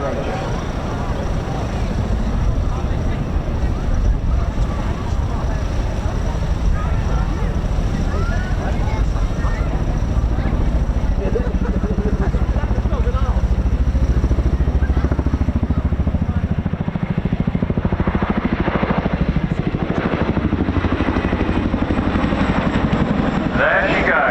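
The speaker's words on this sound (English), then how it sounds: "Please turn your eyes to the sky for the 2025 CHINOOK roll demonstration." A Chinook helicopter flies a roll demonstration at the 2025 RAF Cosford Air Show, its rotors a loud, continuous, rumbling thrum that holds steady throughout with outdoor wind noise.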